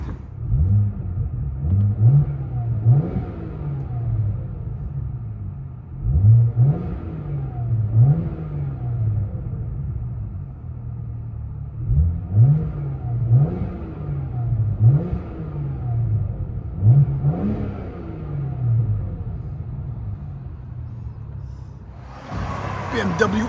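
A 2011 BMW 1M with a 3.0L turbo inline-six and its exhaust resonator deleted revs repeatedly in short, deep bursts, each rising and falling back to a rumbling idle, heard close up outside the car.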